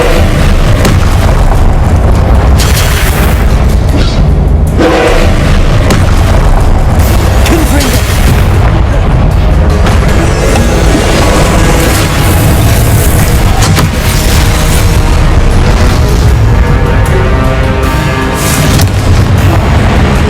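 An Incendio fire spell is cast in the Hogwarts Legacy video game, producing loud, continuous booming blasts and crackling bursts of combat effects that fill the whole stretch with dense noise.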